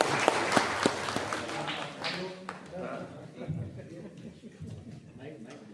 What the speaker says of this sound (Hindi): जितने लोग हैं सब अपने लिए ताली बजा सकते हैं आप लोग